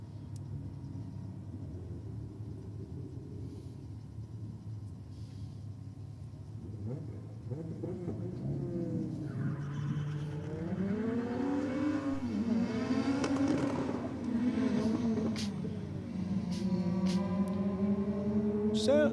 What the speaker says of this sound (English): someone sounded like they're having a bit of a stab at the throttle there